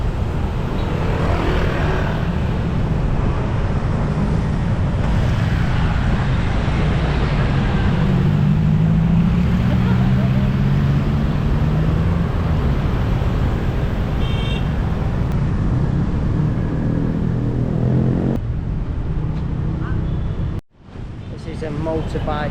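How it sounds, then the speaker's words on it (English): Dense city-centre traffic in Denpasar, Bali, with a steady loud roar of engines and motorbikes close by, a heavy drone passing, then cutting out abruptly near the end. A voice speaks briefly over the traffic. "Now I want to show you crazy traffic."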